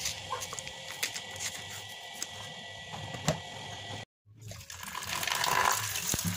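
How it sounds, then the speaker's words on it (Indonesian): Peeled cassava is washed under running tap water, a soft continuous splashing and pattering that cuts out briefly and then returns louder and fuller. "lalu cuci singkongnya dengan air yang mengalir"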